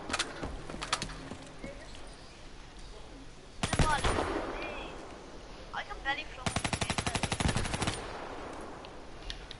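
Quiet Call of Duty Black Ops gunfire: two distinct bursts of rapid automatic fire, one short and one longer, separated by low background noise, with people chatting around them.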